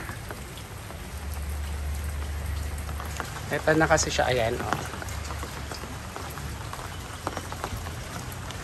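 Steady rain patters down all around, with a person talking briefly over the hiss of the downpour.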